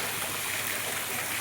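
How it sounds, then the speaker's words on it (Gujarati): Heavy rain pours down steadily in a Gujarat village, with runoff rushing through drain pipes and splashing: a dense, continuous wash of water noise close by, with no break and no voices. "વરસાદ તો અત્યારે ફૂલ છે,"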